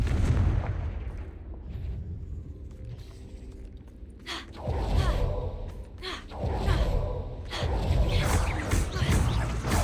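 Confringo fire-blast spells in a wizarding video game, heavy booming explosions and whooshes at irregular intervals, loud and close, with brief breathy vocal sounds between the blasts.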